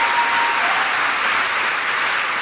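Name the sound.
congregation clapping hands for Jesus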